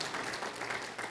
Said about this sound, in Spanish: Le damos un fuerte aplauso a nuestro Señor Jesucristo